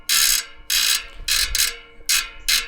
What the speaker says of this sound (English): this hub is really loud